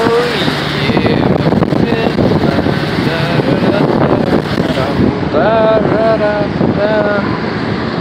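Strong wind buffets the microphone at Turku harbor, a loud continuous roar with boats and water in the background and people talking intermittently through it.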